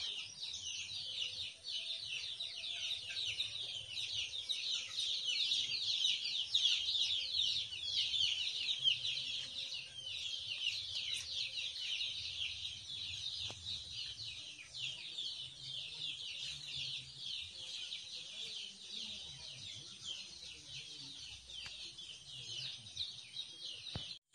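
Chickens cluck faintly at a small plant nursery amid a dense, steady chorus of high bird chirps that continues throughout.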